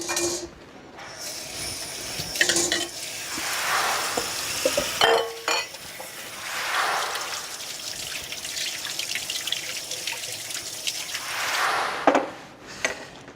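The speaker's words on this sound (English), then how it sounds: "Give them just a rinsing, a little rinsing." Running tap water pours and splashes over cooked string beans in a colander or pot, a continuous rushing hiss that swells and eases with some clinks of handling.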